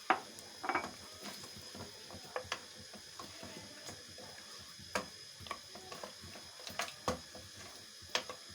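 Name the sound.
mutton and spinach being roasted in oil in a pot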